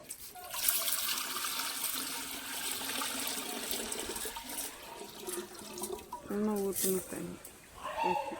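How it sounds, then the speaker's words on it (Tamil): Water pours steadily into a clay pot for Pongal, gurgling and splashing nearby, with voices talking over it and a rooster faintly in the background. "தேவையான அளவுக்கு தண்ணியை ஊற்ற வேண்டியது"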